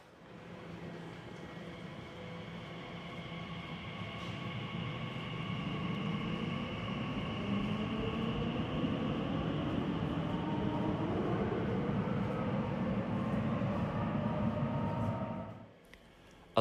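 Elizabeth Line train running through the tunnel into Liverpool Street station, a steady loud rumble with rising whine that holds for about fifteen seconds before cutting off abruptly.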